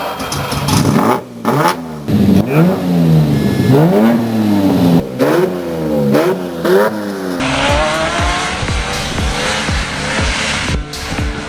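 Lamborghini Rambo Lambo with a 5.2-liter V12 from the Countach, the police car in Need for Speed 3, revving hard and loud through repeated rising and falling gear sweeps, then a roaring, gritty stretch with tire noise.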